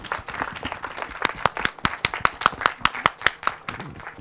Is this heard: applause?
yes